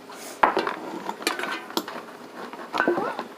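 A metal pan is handled on a workbench during carburetor repair on a two-stroke engine, with clinks and scraping knocks of metal on metal, close and fairly loud, in irregular bursts.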